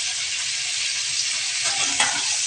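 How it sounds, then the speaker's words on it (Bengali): Pointed gourd fries in hot oil, making a close, even hiss of sizzling that swells slightly near the end as the pieces are stirred, with no voices. "আমি একটু ভেজে নেব, 2 থেকে 3 মিনিট ভেজে নেব।"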